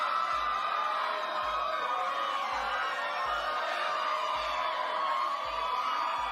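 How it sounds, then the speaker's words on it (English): A crowd at a school speech tournament awards ceremony cheers and whoops in a steady, dense roar, with applause blended into the sustained noise and no clear pauses. "let's go ahead and give a round of applause"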